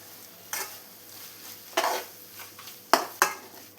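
A spoon stirs masala mixed with ketchup in a pan for a soya roast, giving a few soft, scattered scrapes and gentle sizzling, close and fairly quiet, with no voices.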